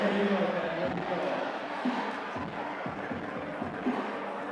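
A big crowd cheers loudly at the Yank-N-Yard 2019 finals, a sustained roar with a voice talking over it and occasional shouts cutting through.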